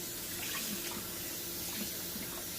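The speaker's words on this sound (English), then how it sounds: "actually just running some cold water over the noodles." Cold tap water runs steadily over cooked spaghetti noodles in a kitchen sink, a continuous close splashing hiss with no pauses and no voices.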